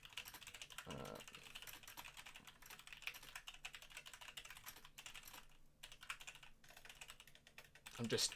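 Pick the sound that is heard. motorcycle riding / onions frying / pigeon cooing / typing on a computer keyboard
typing on a computer keyboard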